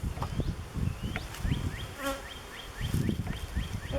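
Honey bees buzz steadily in and around an open hive box during a colony split, a continuous hum with a few sharper chirping sounds over it, fairly close.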